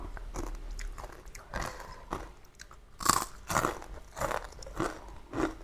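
Crisp fried chicken skin crunched close up in repeated bites and chewing, a series of dry, crackling crunches at an irregular rhythm with no talk.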